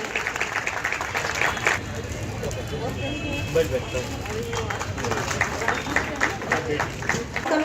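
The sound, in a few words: audience applause at welcome ceremony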